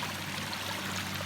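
Water pours from a bag into a small pond as new fish are released, a steady close splashing trickle with no talk over it.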